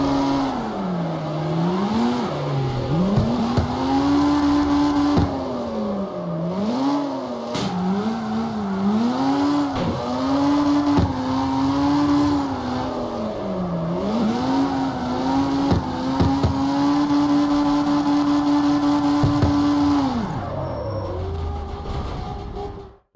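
A street car drifts in the CarX Street video game, its engine revving up and down in long, wavering sweeps with tire squeal, loud and continuous for about twenty seconds before cutting off, with no talking.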